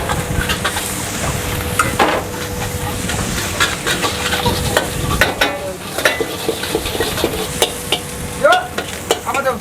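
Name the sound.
stir-frying fried rice and kway teow in a wok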